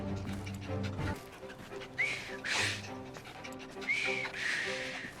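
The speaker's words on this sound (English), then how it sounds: "I've just learned to whistle." Short rising whistles from a man who has just learned to whistle, in an Assassin's Creed Syndicate cutscene; two brief tuneful bursts rise over a steady orchestral score.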